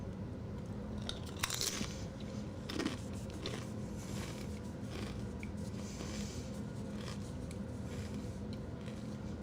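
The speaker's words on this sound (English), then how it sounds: "As I crunch my Doritos in your ear." Doritos chips crunched close to the microphone, with a few sharp bites and crisp crackles scattered over a quiet, steady background.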